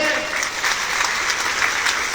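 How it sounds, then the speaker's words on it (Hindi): Crowd at a political rally in Kaimur, Bihar breaks into loud, dense clapping that stays steady and even through the short stretch. "एक बार जोरदार ताली बजाइए"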